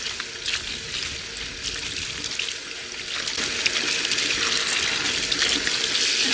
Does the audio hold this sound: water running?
yes